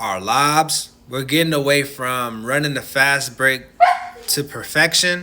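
A dog barks and yips repeatedly close by, mixed in with and overlapping someone talking steadily.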